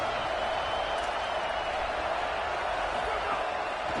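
A packed football stadium crowd at Nebraska vs Ole Miss roars in a steady, dense wash of cheering that holds at an even loudness throughout.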